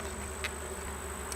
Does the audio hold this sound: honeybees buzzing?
yes